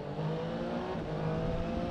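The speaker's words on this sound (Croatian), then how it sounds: "Aj, kako ovo lepo ubrzava." Triumph Tiger Sport 800 motorcycle accelerating through a tunnel, a steady engine drone with rising harmonics, close and loud for a couple of seconds, no talk.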